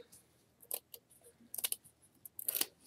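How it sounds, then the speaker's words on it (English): Scissors snip through paper along a score line while making a rustic mini journal, with three short, bright crisp cuts spaced about a second apart, close and fairly quiet. "now I could take my scissors and cut it all the way through."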